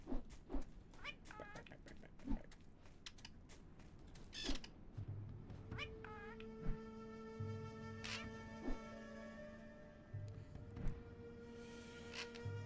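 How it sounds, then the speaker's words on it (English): An enemy cat in the video game Anarchy Online meows and yowls in repeated bursts, while mechanical creaks and sustained tonal game music or effects build up behind it, all moderately loud. "It's a kitty cat."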